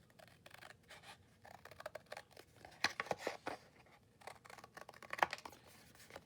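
Scissors cut out sturdy paper journal cards in quiet, close snips and crisp paper rustles, with a few sharper cuts standing out amid soft handling sounds.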